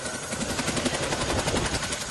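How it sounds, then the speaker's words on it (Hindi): Indian Air Force Chinook and Mi-17 helicopters working in the Kedar valley, a loud, steady rotor chop with rapid rhythmic thumping and engine roar throughout. "इन दिनों वायुसेना का ये हेलीकॉप्टर चिनूक और MI-17 कुछ इसी तरह से केदार घाटी में मददगार बने हुए हैं।"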